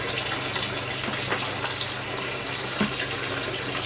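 Water rushing out of a rain harvester pipe clogged with debris after a fire, a steady close gushing stream like an open tap, constant and loud with a low hum underneath and no talk.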